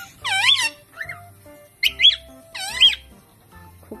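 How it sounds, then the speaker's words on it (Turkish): Pet birds trade warbling, whistled phrases back and forth in short bursts, clear and close in a quiet room, with no talking. "Koko ile Duman birbirlerine serenat yapıyorlar"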